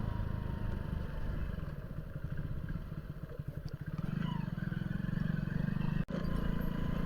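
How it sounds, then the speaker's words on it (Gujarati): A motorcycle rides slowly over a potholed road, its engine chugging low and close. A rattling clatter builds midway as the bike jolts over holes, and a brief thump cuts in near the end. "બાઇક 20ની સ્પીડથી ઉપર જતું જ નથી"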